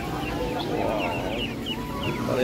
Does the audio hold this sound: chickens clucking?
yes